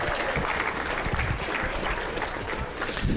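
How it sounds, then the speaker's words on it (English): Banquet audience applause fills the room, a dense steady wash of many hands clapping at an even level throughout. "Let's give them a round of applause and thank you very much, Dave Nelson."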